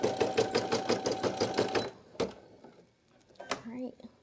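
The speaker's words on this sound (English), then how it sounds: "let's start stitching again" A Brother PE800 embroidery machine stitches in a fast, steady needle rhythm for about two seconds, then stops, leaving a few faint clicks and brief handling noises.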